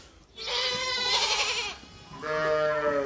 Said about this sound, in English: A very noisy set of pygmy goats that sound like lambs